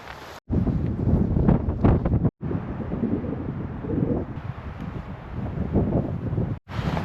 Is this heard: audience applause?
no